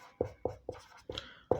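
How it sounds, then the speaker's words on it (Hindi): Chalk or marker writing on a board during a geography lesson, five sharp tapping strokes in an uneven rhythm, close and clear with no talk. "मैं यहाँ लिख देता हूँ"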